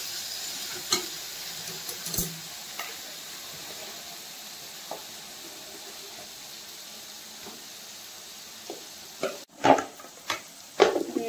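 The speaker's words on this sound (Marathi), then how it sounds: "याच्यामध्ये आपण मसाला वाटलेला टाकलाय. आता ते मिक्स करणार आणि थोडा वेळ ठेवणार." Prawns coated in ground masala fry in a pan with a soft continuous sizzle and hiss, broken by occasional light scrapes and louder stirring clatters near the end.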